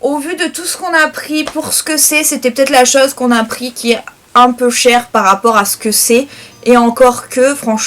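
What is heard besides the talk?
No everyday noise stands out behind the speech.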